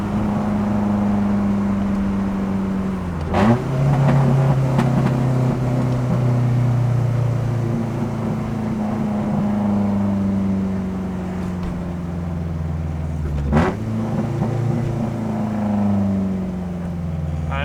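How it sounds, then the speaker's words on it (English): An Acura Integra with a VTEC engine drives along with a steady, loud engine drone. It briefly dips and rises in pitch at two gear changes as it downshifts. No one speaks. "So I'm gonna get up here, do a couple downshifts, and we'll see what happens."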